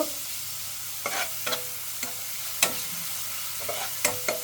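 A spice paste with a splash of water fries in a pan while a spoon scrapes and stirs it in intermittent strokes, each stir a brief scrape over a soft steady sizzle, close and without talk.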